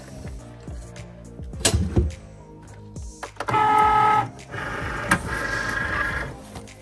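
A Cricut cutting machine runs while putting heat transfer vinyl on a sweatshirt, starting with scattered clicks and button beeps, then a loud steady whirring motor pass with bright tonal whine, a short pause, and a second sustained cutting run.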